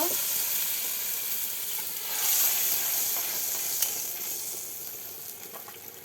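Lentils go into a pan of hot oil tempered with whole cumin seeds, setting off a steady, hissing sizzle that swells briefly and then settles into a softer crackle, close and with no talking.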